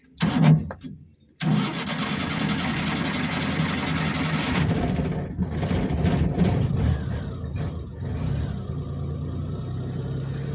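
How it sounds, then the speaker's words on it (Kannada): A Maruti Suzuki Omni van engine cranks briefly, pauses, then catches and settles into a steady, loud, close idle that continues to the end with slight changes in tone. "ಸ್ಟಾರ್ಟಿಂಗ್ ಸೌಂಡ್ ಯಾವ ಥರ ಬರುತ್ತೆ ತೋರಿಸ್ತೀನಿ ಬನ್ನಿ"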